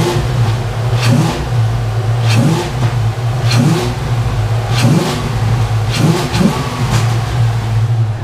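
A Coyote V8-swapped Ford Foxbody Mustang revving with a Boss intake: a deep rumbling idle broken by several sharp throttle blips that rise and fall, loud and close.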